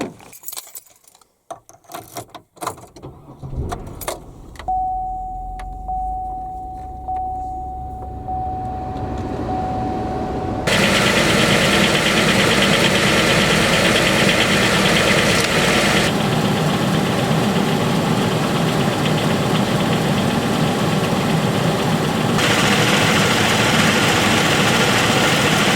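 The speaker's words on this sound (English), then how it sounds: "Let's go crank the car up, turn your heat on high" Keys jangle and click before a car engine cranks over and settles into a steady idle, a continuous low rumble that runs on for many seconds with no talk.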